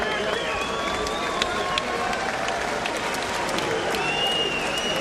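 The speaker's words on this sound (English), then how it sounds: "Crowd here at the MEN Arena in Manchester, ecstatic." Ecstatic boxing crowd inside the MEN Arena in Manchester after a world super middleweight title fight, a continuous roar of cheering and applause with whistles and shouts rising through it, and talk underneath.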